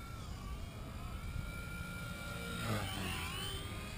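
A Blade mCP X 2 RC helicopter flying in idle up gives a steady high-pitched whine of motor and rotor, with pitch sweeping up and down as it maneuvers, moderately distant and alone.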